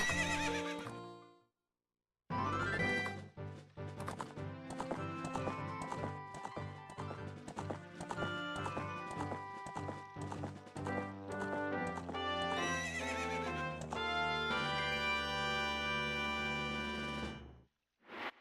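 Epona the horse in The Legend of Zelda: Ocarina of Time lets out a loud whinny, followed by dense rhythmic hoofbeats of galloping over game music, ending with another neigh and a brief pause.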